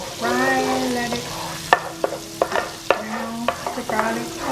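Garlic frying in a pan, sizzling steadily while sharp clinks and scrapes of stirring punctuate it at close range.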